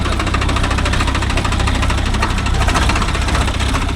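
A Swraj 744 FE tractor engine runs steadily in dryland, a loud, continuous low diesel rumble with knocking vibration throughout and no talk.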